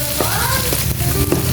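Onion sautés in a pan for a coconut-milk tilapia dish, a loud, continuous close sizzle broken by a few brief scraping stirs.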